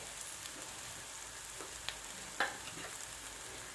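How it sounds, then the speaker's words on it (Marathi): Chilli thecha frying in a pan as a little more oil goes in, a quiet hiss with a couple of sharp clicks and a brief louder crackle, near and without speech. "आता मी यात आणखी थोडंसं तेल टाकणार आहे"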